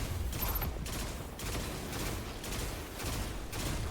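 Pulse rifle fire in the Destiny 2 video game comes in short bursts of rapid shots, with several bursts at regular intervals, fairly quiet in the mix.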